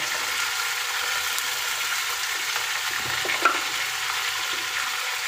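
Chicken pieces fry in a pot for pulao with a steady, even hiss of sizzling oil that is close and fairly loud, plus one brief clink partway through, and no one speaking.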